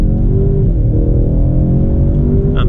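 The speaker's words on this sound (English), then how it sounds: "but it makes a pretty good noise for a 4-cylinder" A 2018 Ford Mustang EcoBoost four-cylinder engine revs from inside the cabin, a loud, low, steady drone with rising harmonic tones as it pulls, no voices present.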